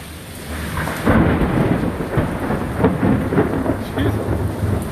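Thunder from a severe thunderstorm in Austin booms loud and close within steady rain, with a heavy crack near the start and rolling rumbles after it, heard from under an awning.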